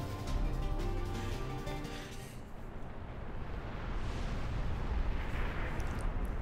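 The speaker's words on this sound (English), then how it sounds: "Oh, hey, bombs!" Bombs explode in Kingdom Hearts 2 on Critical Mode, a dense, continuous rumble of booming blasts that runs throughout, partly layered over game music at first.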